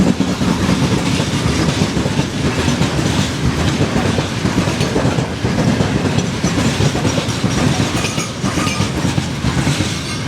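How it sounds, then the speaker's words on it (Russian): A long freight train with many wagons rolls steadily past close by, with a continuous loud rumble and rhythmic clickety-clack of wheels over rail joints throughout, no voices. "Много вагонов у этого поезда."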